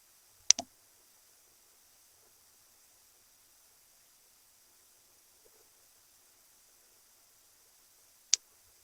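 Two sharp, isolated computer mouse clicks in a quiet room, one near the start and one near the end, with long near-silence between them.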